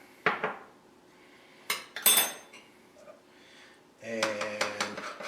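Creole mustard being mixed with a utensil in a bowl, giving a few sharp clinks and scrapes, then a longer run of rapid clattering stirring, close and fairly loud, with a brief spoken word.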